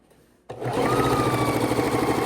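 A sewing machine starts up abruptly after a brief quiet moment and then runs steadily at close range, stitching seams on a star-pieced quilt with a continuous, even mechanical whir.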